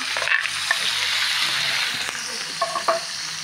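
Pork meat for adobo sizzles steadily in a hot pan, a bright continuous frying hiss with occasional stirring clinks and scrapes, close and without voices.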